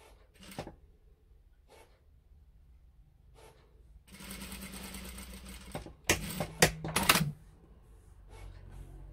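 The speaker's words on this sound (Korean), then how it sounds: "재봉 한번 하고" Sewing machine joining the back panel and sleeve of a stretchy T-shirt, with a couple of faint clicks, then a steady run of stitching and a few short, sharp bursts at close range, no talk.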